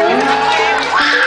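Concert crowd at the JB in Puerto Vallarta, cheering and whooping loudly and steadily throughout a brief moment, with shouts rising over the din.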